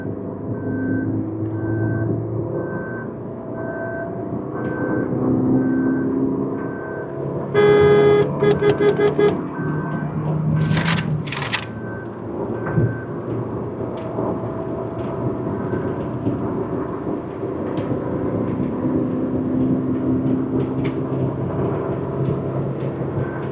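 A Maruti Suzuki Baleno hatchback accelerates on the road, its engine a steady low rumble heard from the cabin, broken midway by a few brief electronic beeps and chimes before the drone carries on.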